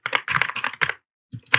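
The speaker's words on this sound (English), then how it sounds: "Sorry if my typing's a little weird. I just got this new keyboard and I'm still kind of getting used to it." Rapid clacking keystrokes on a newly acquired computer keyboard, close and fairly loud, in quick bursts with a brief pause before the tapping resumes.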